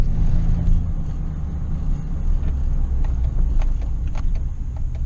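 A pickup truck fitted with a leveling kit drives along, its engine making a steady, loud low rumble with road noise throughout and no talking.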